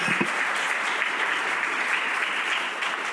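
An audience applauds the first round-table panel at a conference, sustained dense clapping from a full room, loud and even throughout with no speech over it.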